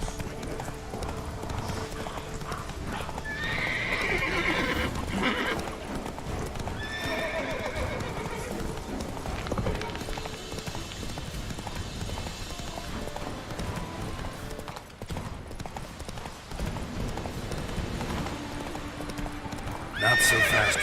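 The horse Roach gallops in a video game, with a steady, fast clip-clop of hooves running throughout and occasional whinnies, while a voice talks over it.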